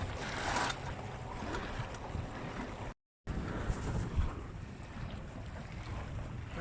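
Gusty wind rushes and buffets the microphone aboard a Nordica 16 sailboat beating upwind on Mississippi Lake, with water slapping along the hull under a continuous broadband roar, briefly cut by a silent gap.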